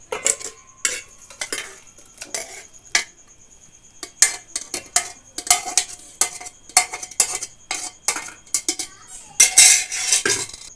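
Boiled vegetables for pav bhaji mashed in a metal pot, a steady run of close, loud clanking and scraping strokes with bursts of metallic knocks.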